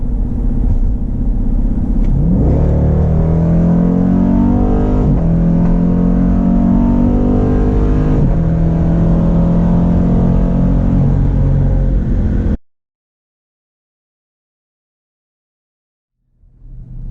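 A 2018 Dodge Durango SRT, an SUV, accelerates hard from a 40 mph roll on a closed road, its engine roaring loud and rising steadily in pitch for about twelve seconds before cutting off abruptly into silence.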